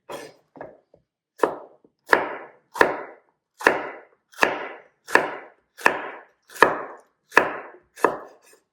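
A knife chops green peppers on a cutting board with about a dozen crisp, evenly spaced thuds, close and loud, with near silence between strikes.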